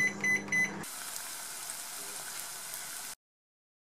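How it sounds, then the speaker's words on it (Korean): A microwave oven heats a boxed sweet-and-sour pork meal in a Paris apartment, opening with a few short electronic beeps from the keypad before a soft, steady hum runs for a couple of seconds and then cuts off. "전자레인지 돌려줍니다."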